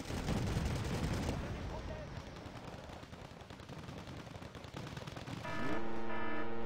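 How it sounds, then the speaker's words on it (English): Rapid tank cannon and machine-gun fire crackles continuously in the Wargame Red Dragon battle, dense and loud throughout, ending in a sustained tonal rumble. "all the tanks are shooting you"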